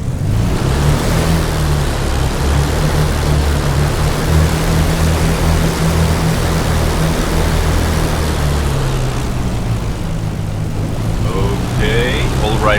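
The piston engines of a de Havilland Mosquito FB Mk.VI in the DCS flight simulator drone loudly and steadily as the throttle is eased open. The constant roar holds a low, even hum, and faint tonal beeps appear near the end.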